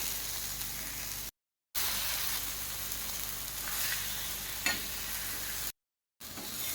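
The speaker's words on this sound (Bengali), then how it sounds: "মাছ তাওয়া ফ্রাই বানাচ্ছি।" Fish fillets, tilapia, fry on a hot tawa with a steady, fairly close sizzle and hiss that runs on, briefly cut to silence twice.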